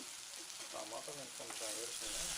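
Brinjal and tomato curry fries with turmeric and chili powder in a pan while a ladle stirs it, giving a faint, steady sizzle with soft stirring sounds at low volume.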